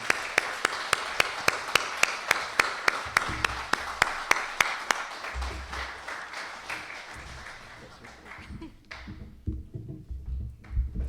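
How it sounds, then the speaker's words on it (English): Applause for a speaker at a talk, led by one loud, rhythmic nearby clapper over a softer audience, then fading after about eight seconds into faint room noise and murmurs. "join me in giving a rousing round of applause to Simone Miyazaki."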